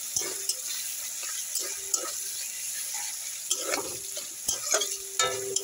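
Meat frying in a pan in a home kitchen, with a faint, steady sizzle under occasional stirring clinks and scrapes of a utensil.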